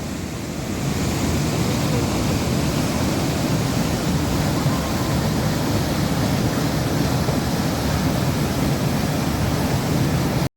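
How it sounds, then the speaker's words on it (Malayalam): A powerful, continuous roar of water rushing out at a pump house fills the scene, loud and unbroken, like a strong torrent pouring through a channel. "പമ്പ് ഹൗസ് എന്നാലും ഭയങ്കര പവറിലെ വെള്ളം പോകുന്ന കേട്ടോ"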